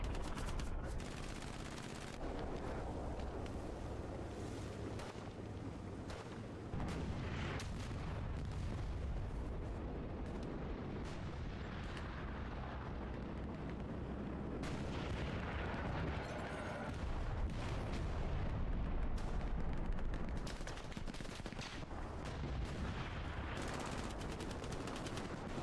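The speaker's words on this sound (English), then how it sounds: "Another Katyuska coming in for the Russians." Katyusha rocket artillery barrage in a video game battle on the Kharkov map: a dense, continuous roar of blasts and rumbling impacts that rolls on loudly for the whole stretch, with no break and no voices.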